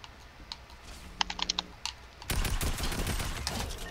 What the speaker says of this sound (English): That's the heavy assault rifle. I can tell by the fire rate